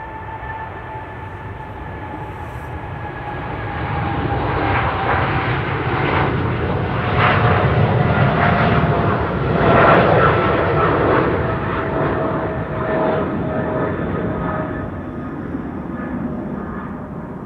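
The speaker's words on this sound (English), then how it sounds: "Qatar flight 8206 to Doha. 777 freighter, 10 years old." A ten-year-old Qatar Boeing 777 freighter takes off from Amsterdam Schiphol, its powerful engine roar building and peaking mid-pass with a steady whine on top, loud and sustained, then easing slightly, with no speech.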